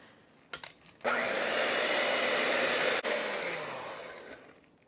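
An electric hand mixer whirs steadily at full speed as it beats salt and sugar into cinnamon roll dough, starting after a few brief clicks and bumps and holding a loud, constant drone that eases slightly toward the end.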